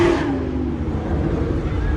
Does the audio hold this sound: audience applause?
no